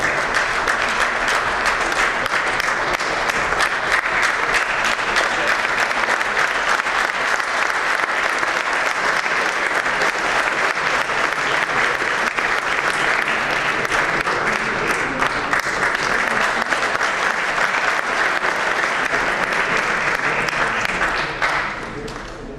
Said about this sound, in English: it is a correct award by the amount of applause he received